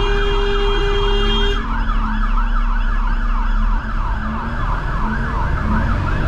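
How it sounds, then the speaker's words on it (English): A fire engine's wailing siren sweeps up and down close by, loud and sustained as it passes a refuse truck at a roundabout, over the truck's low engine rumble, with no talk. "I can hear sirens. Where is it? There, fire engine."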